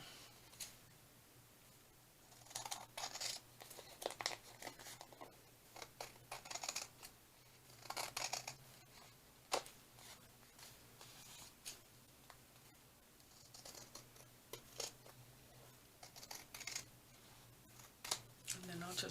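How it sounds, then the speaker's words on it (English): Scissors snip repeatedly through paper, short crisp cuts coming in irregular bursts with quiet pauses between them, close and faint. "Just let me get a pair of scissors here and see if I can cut this out."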